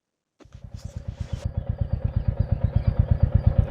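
A Royal Enfield Classic 350 motorcycle fires up after a moment of silence and settles into a close, steady idle with its even, deep, thumping beat.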